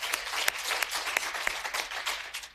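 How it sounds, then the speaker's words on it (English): An audience at a panel discussion applauds steadily, a dense wash of many hands clapping with a few louder claps standing out, with no talking. "Let's give her a round of applause."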